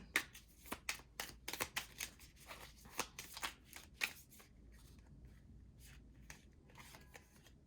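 A deck of affirmation cards being shuffled by hand, a rapid run of close, papery riffles and flicks that thins into quieter, sparser shuffling toward the end, with no voices.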